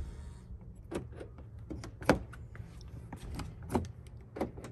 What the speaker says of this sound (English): you can lock and unlock the vehicle with this button